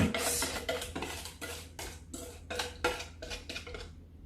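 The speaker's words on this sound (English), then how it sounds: "And you stir, you keep stirring." Pastry cream mixture being stirred in a pot, a close rhythmic series of whisk or spoon strokes scraping and tapping against the pot, about a dozen regular passes, no voices.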